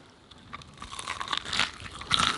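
Close crinkling and crunching noises build over a couple of seconds, like someone biting and chewing crisp McDonald's BTS Meal food near the microphone.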